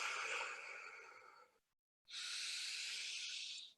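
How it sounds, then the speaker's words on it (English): Deep, airy breaths from a breathwork session: a long hissing exhale fades out, a short silence follows, then a strong steady breath rushes in close to the microphone. "Breathe in that new life, that new information. And exhale."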